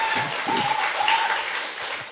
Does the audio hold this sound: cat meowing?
no